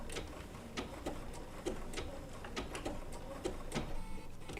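A Bernina B790 PRO sewing machine stitching wool appliqué with heavy 12-weight cotton Sulky thread, a steady close mechanical whir with fast rhythmic needle ticking, no voices.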